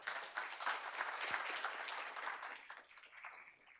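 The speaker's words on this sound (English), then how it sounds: "It's nice to get applause before." An audience claps steadily in a hall just after a lecturer on internet history takes the stage, loud and dense for about three seconds before thinning out toward the end.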